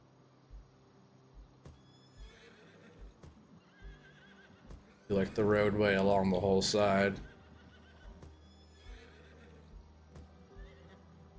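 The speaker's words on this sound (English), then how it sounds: "You hear the horses, but there's actually no horses in there yet." Horses in Farming Simulator 25 let out a loud, drawn-out whinny lasting a couple of seconds midway, rising sharply above quiet game ambience, with someone talking softly before and after.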